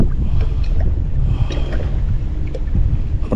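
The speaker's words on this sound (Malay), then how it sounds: "Angin." Strong wind buffeting a fishing boat at sea in rough waves, a steady loud rush with gusty bursts and low rumble throughout, no talking.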